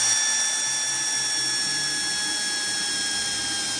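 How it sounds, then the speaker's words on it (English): A power drill with a standard bit bores through a metal door, its motor holding a steady, loud whine with bright overtones and a faint ratcheting texture throughout, with no talking. "I'm gonna attempt to drill a hole through the door"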